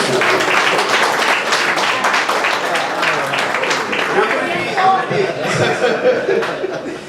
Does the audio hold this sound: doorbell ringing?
no